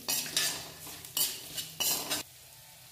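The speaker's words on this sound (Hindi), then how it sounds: "इस मसाले को इसी कढ़ाई में डाल लेंगे और इसको थोड़ा सा मिक्स कर लेंगे" Spices are stirred into a kadhai for a snack mixture, giving three or four bursts of close metallic scraping with a spoon over a light sizzle, separated by short pauses.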